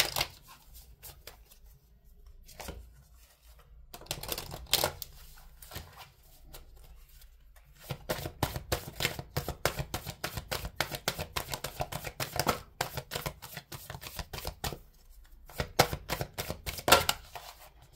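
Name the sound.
shuffling a deck of oracle cards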